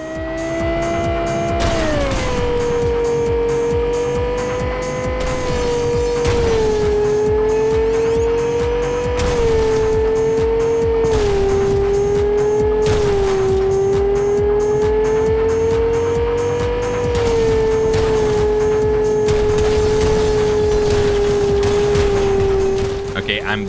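Race car in the Cyberpunk 2077 video game, its engine droning loud and steady throughout, with repeated tire squeals and skids layered over the continuous roar.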